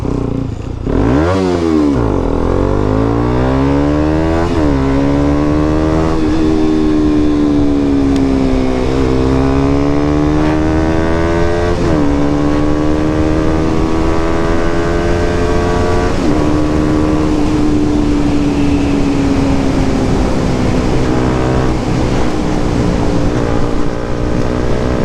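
A modified-exhaust KTM Duke 200 motorcycle revs and roars past in repeated flybys, its loud engine rising and falling through the gears as it accelerates away, continuous and close, with no voices.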